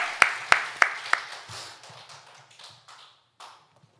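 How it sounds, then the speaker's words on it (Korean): Church congregation clapping in praise during a Korean sermon: a few loud, sharp claps ring out at the start, then softer scattered claps trail off and fade within a few seconds. "우리의 기도에 응답하시는 하나님께 영광의 박수 올려드리겠습니다."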